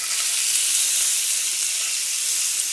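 A steak sizzles in butter in a pan, a steady, bright, hissing fry that stays loud and even from start to finish, with no talking over it.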